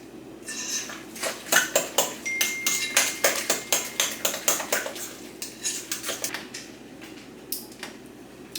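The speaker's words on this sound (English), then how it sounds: "Put some sour cream in here. And smash the potatoes." Potatoes mashed with sour cream in a bowl, heard as a steady run of sharp utensil clicks and knocks against the bowl, close and fairly brisk, with no talking.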